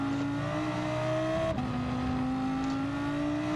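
Race car engine in Gran Turismo 7 as the car leaves the track and spins out of control: a steady, loud droning engine tone with a pitch shift midway, continuous and alone.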